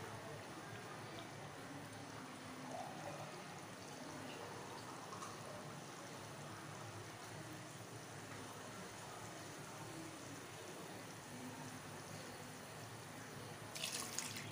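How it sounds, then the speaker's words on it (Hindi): Water poured into a pressure cooker while cooking aloo gosht, a faint continuous splashing trickle running steadily for several seconds with a brief clatter near the end. "अगर आप कुकर में बना रहे हैं तो 1 गिलास पानी डाल दें।"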